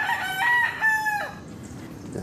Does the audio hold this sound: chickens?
yes